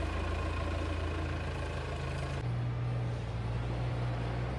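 A heavy diesel tractor engine idles steadily with a deep, continuous rumble, its pitch shifting slightly partway through, close by with no talking.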